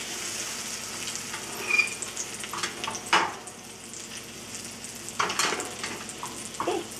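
An eggplant omelette (tortang talong) fries in a pan with a steady, soft sizzle, broken by a few louder scrapes and clinks of a utensil against the pan, no voices.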